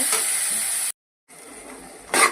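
Tomatoes sizzle loudly in hot oil for a mutton gravy, broken by a short silent gap, then the frying resumes with a scraping stir near the end.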